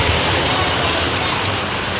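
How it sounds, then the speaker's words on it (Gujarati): Heavy rain pours down in a dense, unbroken hiss of drops striking surfaces, loud and close, holding steady throughout with no pauses and no voices. "વરસાદ એટલે વરસાદ, બહાટી જ બોલાવે છે"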